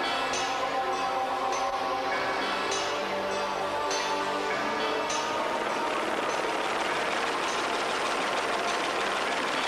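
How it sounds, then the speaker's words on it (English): Rally motorcycles rev up at the start of the 1997 Dakar Rally, a loud, continuous engine roar with rising and falling revs from several bikes close by, sounding alone with no talk. "with 112 bikes starting off this morning"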